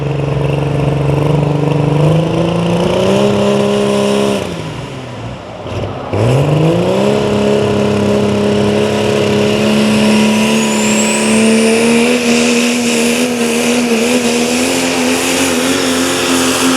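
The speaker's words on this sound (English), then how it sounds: "Listen to the sound of this engine." Pulling truck engine from Latrobe, Pennsylvania at a truck and tractor pull, revving loud and close, climbing in pitch, dropping briefly to a low throb mid-run, then roaring back up into a sustained high-revving drone.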